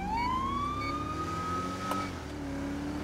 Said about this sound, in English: shut off the siren